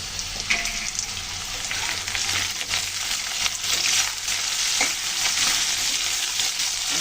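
Green chillies fry in hot oil in a pan with a steady, loud sizzle and scraping stir strokes, close up and continuous, while cooking a dish of tilapia fish, Malabar spinach and potato.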